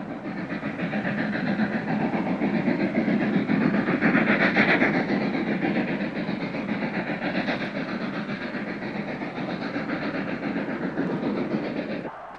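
A Trans-Siberian railway train rolling along the tracks, a loud, steady rumble with rhythmic wheel clatter that holds for the whole stretch without a break.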